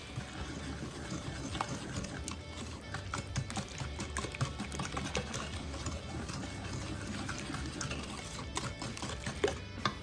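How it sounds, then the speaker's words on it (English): Whisk beating pecan pie filling by hand in a bowl, a continuous quick clatter and scraping at an even rhythm, moderately close. "you're just gonna whisk this together"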